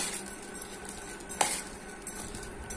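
Dry ginger powder and cumin roasting in a pan, heard as a faint steady sizzle with soft stirring scrapes and one sharp utensil clink against the pan.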